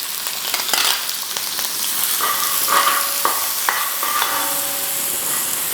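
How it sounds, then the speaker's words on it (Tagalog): Onions hit hot oil in a wok before pork spare ribs are cooked, giving a loud, steady hiss of frying. Sharp crackles and a few stirring scrapes sound close up, with no talk. "Once na mainit na yung mantika, eto na, sibuyas."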